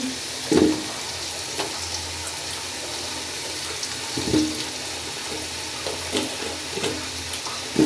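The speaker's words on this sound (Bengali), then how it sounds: "তেলটা একটু হালকা গরম হয়েছে, তার মধ্যে আলুটা দিয়ে দিলাম। তো আলুটা ভেজে নিচ্ছি।" Potatoes frying in lightly heated oil in a home kitchen give a steady low sizzle, broken by a few sharp clinks and scrapes of a utensil stirring the pan.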